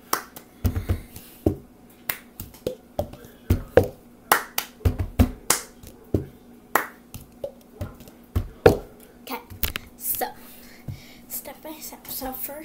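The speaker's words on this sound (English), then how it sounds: "today I'm gonna be showing you how to do the cup song" Cup song rhythm played by hand on a table: crisp hand claps alternating with hollow cup taps and thuds, a steady repeating pattern of sharp close transients, played alone with no talking.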